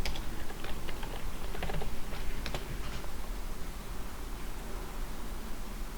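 Typing on a computer keyboard, with scattered light key clicks over steady background hiss, busiest in the first few seconds and fading to near-constant noise.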